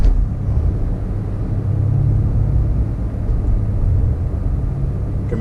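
Inside a Porsche Panamera Turbo S fitted with a Racechip tuning module, the engine hums as a low, steady rumble while the car drives at low RPM in sport mode, with no voices heard.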